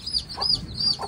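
Mestizo jungle fowl chickens on a Philippine farm cluck softly up close, a few short raspy calls over faint background hiss, with no talking.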